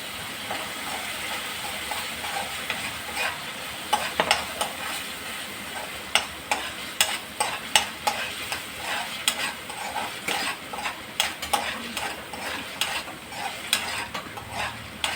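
Mixed vegetables stir-frying in a hot pan for Maggi noodles with green sauce, a steady sizzle broken by repeated scraping and tossing strokes of the spatula, close and fairly loud with no talking.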